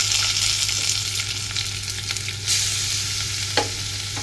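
Crushed onions frying in hot oil, a dense, loud continuous sizzle with light stirring scrapes and a low steady hum underneath.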